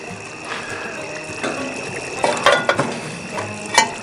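Venison stew simmering in a Dutch oven over charcoal at camp, with soft bubbling and sizzling crackle, small pops and stirring scrapes scattered over a low background hiss.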